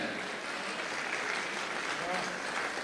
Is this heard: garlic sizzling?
no